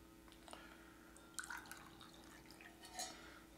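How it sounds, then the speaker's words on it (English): Coffee trickles from a large travel mug into a tiny tasting cup, soft close drips and splashes with a couple of brief liquid bursts, quiet and alone. "Pour it out of the big, clumsy, huge travel mug into this tiny little tasting cup"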